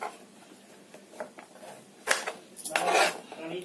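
A knife cutting raw mango into pieces on a hard surface, sparse light taps and scrapes followed by a louder cluster of chopping knocks and clatter near the end, close and without speech.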